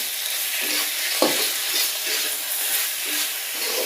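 Tomato masala sizzles and fries steadily in a pan for fish curry, a continuous close hiss with a few faint stirring clicks and no voices.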